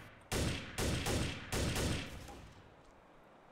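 In the video game Trouble in Terrorist Town, bursts of gunfire come loud and close as several rapid volleys, each cutting off sharply, before the shooting stops and a quieter tail lingers.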